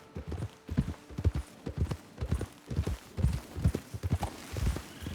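Horse hooves clip-clop in the video game Red Dead Redemption 2, a steady rhythmic trot of close, distinct hoofbeats sounding alone without talk.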